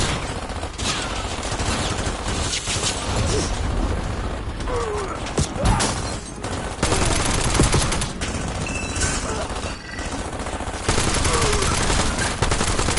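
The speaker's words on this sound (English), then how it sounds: "Yeah, we're just shooting away." Continuous gunfire and mechanical clatter from a boss fight in the video game Call of Duty Black Ops 7, loud and dense throughout, with bursts layered over a busy combat soundscape.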